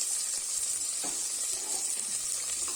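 Sliced onions, two large ones, sautéing in hot oil for a Chettinad therakkal dish, giving a steady close sizzle with occasional stirring scrapes and no voices.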